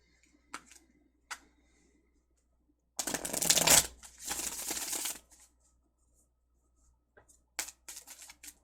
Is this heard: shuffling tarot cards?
yes